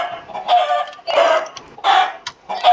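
Chickens in Minecraft cluck in a series of short, bright bursts, four separate squawks spaced about half a second apart, close and clear with no talking over them.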